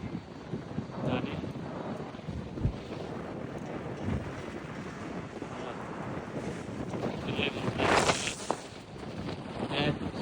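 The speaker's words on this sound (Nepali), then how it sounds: "यहाँ ट्रेन स्टेसनको हावा धेरै चलिरहेको छ है।" Strong wind buffets the microphone at a train station, a steady broadband rush with gusts swelling louder around the middle and end.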